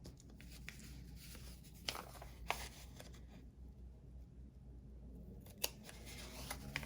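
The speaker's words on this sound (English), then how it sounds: "I mark my pieces by making slits, little tiny slits on the notches" Sharp scissors snipping tiny slits into fabric notches while cutting out doll cargo pants pieces, a few quick crisp snips spaced irregularly among faint rustling of cloth, close and quiet.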